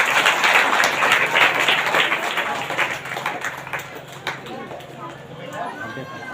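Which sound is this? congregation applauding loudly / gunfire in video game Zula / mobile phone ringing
congregation applauding loudly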